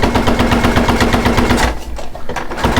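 A sewing machine runs a regular straight stitch at 2.5 length on factory settings, its needle hammering in a fast, steady loud rhythm that eases off briefly near the end as fabric is folded by hand.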